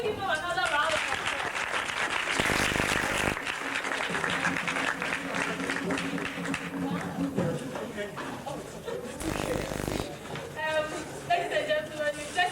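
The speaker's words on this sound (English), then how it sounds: "Shall we give him another round of applause?" An audience applauds after a school drama group's performance of Ananse and the Gumman, bursts of clapping mixed with crowd chatter and a voice talking over it in a hall.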